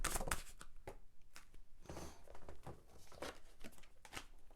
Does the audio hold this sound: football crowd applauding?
no